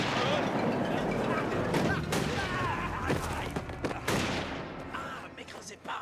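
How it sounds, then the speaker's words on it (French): Dense gunfire from a French-dubbed TV episode, a sustained barrage of loud booming shots with scattered sharper cracks, mixed with voices and dramatic background noise. "C'est pas sur nous qu'il tire."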